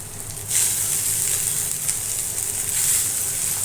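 Chopped wild nal vegetable drops into a pan of fried onions, and the steady close sizzle swells into a louder, hissing fry that continues on its own without talk.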